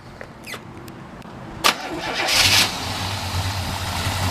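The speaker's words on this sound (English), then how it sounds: "We'll go ahead and fire this one up for you." A 1966 Pontiac GTO Tri-Power engine cranks and catches, then settles into a low, rumbling idle, close and fairly loud.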